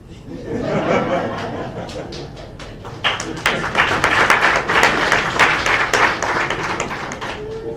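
A Sierra Leone audience, with the Vice President present, claps in celebration of the country's EITI high score; after quieter voices, a dense burst of clapping swells in, mixed with chuckles and laughter.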